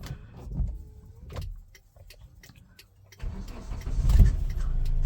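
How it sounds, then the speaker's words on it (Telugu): A 2016 Hyundai Verna Fluidic SX diesel car cranks and starts on a single try, settling into a steady rumbling idle after a few quiet clicks and mechanical noises. "సింగిల్ సెల్ఫ్కి ఇంజన్ అనేది స్టార్ట్ అయిపోయింది."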